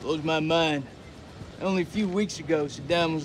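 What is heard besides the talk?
No everyday noise stands out behind the speech.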